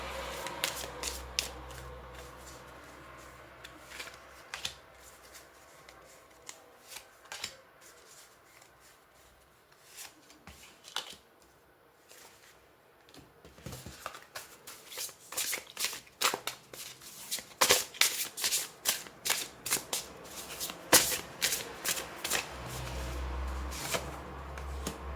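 Lenormand oracle cards are shuffled by hand, a run of soft rustles and quick riffling flicks that builds into dense, crisp bursts, close and fairly quiet, with no voice.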